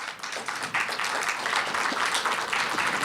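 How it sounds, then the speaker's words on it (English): Audience applause at a youth town hall on public safety: steady, dense clapping from a roomful of people, sustained for the whole stretch at moderate volume, with no talk over it. "So we'd like to give them a round of applause and to thank them as well."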